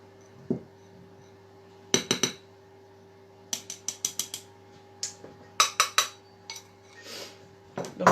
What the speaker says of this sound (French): Donc on mélange la farine avec le beurre.